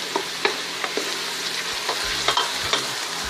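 Masala for kari pakora frying and being stirred in a pan, a loud continuous sizzle broken by repeated spoon scrapes and knocks, close and with no talk.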